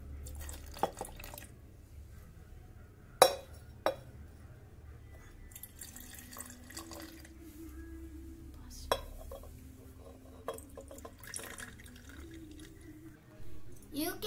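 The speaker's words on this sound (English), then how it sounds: "Let's start mixing red cabbage juice and see the magic." Red cabbage juice is poured into glasses holding vinegar, lemon, soda, bleach and baking powder, with soft drips and trickles, a few sharp clinks of glass, and quiet splashing over a low background hum.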